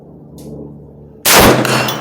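Ruger Mini-14 tactical rifle fired at a 100-yard target: a low murmur gives way to one sudden loud gunshot blast that rings and decays over the final stretch, with no talk.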